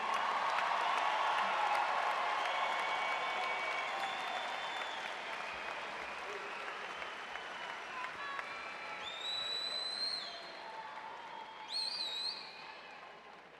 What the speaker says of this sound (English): join me in another round of applause for our graduates